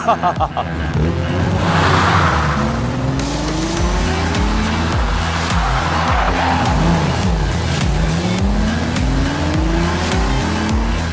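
A race car engine revs hard and close, its pitch climbing repeatedly through rising gear sweeps with tire noise, loud and sustained, with other sounds mixed faintly underneath.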